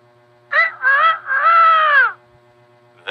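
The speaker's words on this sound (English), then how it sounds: "That's the sound of a rooster." A loud, close rooster crows once in three drawn-out segments, the last one longest, and a second call starts right at the end.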